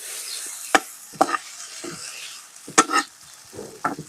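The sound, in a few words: stirring noodles frying in a pan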